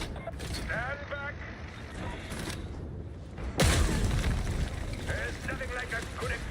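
A wall blown apart by an explosion in Warhammer 40,000: Darktide, a sudden loud boom with a rumbling tail, with game speech before and after it.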